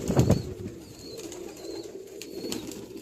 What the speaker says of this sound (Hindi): ये रहा हमारा पाउडर कबूतर